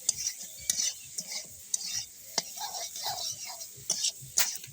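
Spiced fish curry paste with ground chilli, salt and turmeric being stirred and fried in a pan, with scraping spoon strokes and soft sizzling in short, irregular bursts close by.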